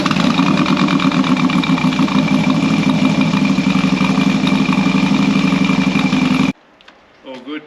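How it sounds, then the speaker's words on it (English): A Harley-Davidson Low Rider S, just fitted with a new battery, running close and loud with a steady throbbing idle rumble that cuts off abruptly near the end, followed by faint clicks and a spoken voice. "Starter motor was nice and fast."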